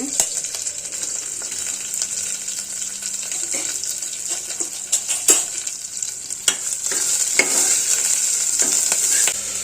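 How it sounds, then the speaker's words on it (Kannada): Dried red chillies, onion and curry leaves sizzle and crackle in hot oil, with occasional stirring scrapes and clinks throughout, close and steady. "ಎಗ್ಗುಡ್ಸಿಗೆ ನಾನಿಲ್ಲಿ ಒಣಮೆಣಸಿನ್ಕಾಯಿ ಮತ್ತು ಈರುಳ್ಳಿ ಸ್ವಲ್ಪ ಕರಿಬೇವು ಹಾಕ್ಕೊಂಡು ಎಣ್ಣೆನಲ್ಲಿ ಫ್ರೈ ಮಾಡ್ತಾ ಇದ್ದೀನಿ"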